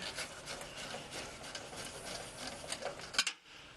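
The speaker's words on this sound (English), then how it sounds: "The advantages of a magnetic screwdriver." Faint, close scraping and rubbing from a magnetic screwdriver turning screws on a sealed beam headlamp, with a few small clicks and a brief rattle near the end, no talk.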